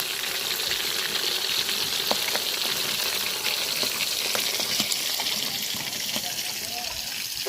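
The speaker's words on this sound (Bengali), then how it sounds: "মাছ কড়া করে ভাজা নিচ্ছি" Pabda fish fry in hot oil with a steady, dense crackle and sizzle, punctuated by sharp pops and occasional stirring sounds close up throughout.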